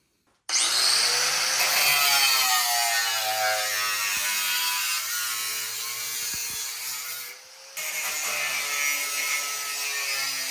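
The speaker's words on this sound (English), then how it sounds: "we're just gonna use the old cutoff wheel and work our way around" Abrasive cutoff wheel slicing into the floor pan of a 1961 VW Beetle, a loud continuous high metallic whine with a falling pitch as it bites, briefly easing near the end before resuming, no talking.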